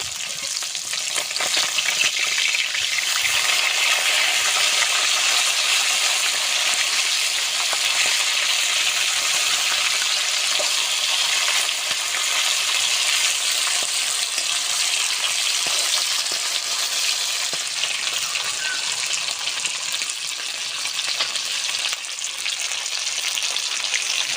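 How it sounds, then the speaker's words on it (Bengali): Fish fries in a pan in a rustic Bengali village kitchen, a loud, continuous crackling sizzle with faint stirring textures that holds steady for the whole stretch, no talking over it. "মাছটা ওদিকে ভাজা হতে থাকুক।"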